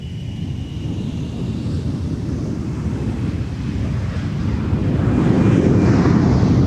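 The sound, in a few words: Gulfstream jet departing from the runway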